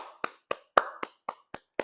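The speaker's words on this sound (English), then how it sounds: "Clap for yourself." Seven sharp, evenly spaced hand claps, crisp and close in a quiet room, a steady slow rhythm with nothing else audible.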